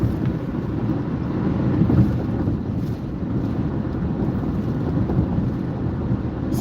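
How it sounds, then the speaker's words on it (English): Gusty wind buffets a moving car with a continuous low rumbling roar that swells and eases. No one speaks. "It's a little windy."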